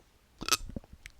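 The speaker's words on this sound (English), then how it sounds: "hear me hiccup" A single person's hiccup, a short abrupt vocal burst with a brief throaty follow-up, heard close and alone against a quiet room.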